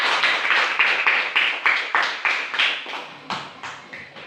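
A small group claps hands in a classroom setting, a steady run of about a dozen sharp, fairly loud claps at an even pace, with no voices over them.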